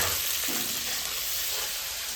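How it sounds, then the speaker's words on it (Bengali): Onions fry in a pan for chicken curry, a dense, even hiss of sizzling oil, close and steady, with one faint stir near the start and no talking. "পেঁয়াজটা কিন্তু ভাজা হয়ে ঠিক আছে বেশি ভাজবো না"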